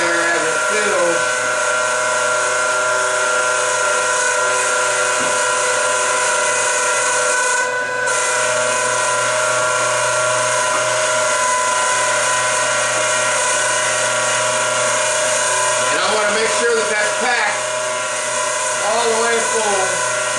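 A sausage stuffing machine fills summer sausage casing with a loud, continuous motor drone and whine that holds steady throughout, with faint shifting tones from the mechanism.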